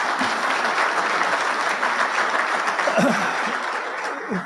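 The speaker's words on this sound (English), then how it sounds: "Just a round of applause for the head table." An awards dinner crowd applauding the head table in a full, sustained wash of clapping, with faint voices and a few chuckles mixed in.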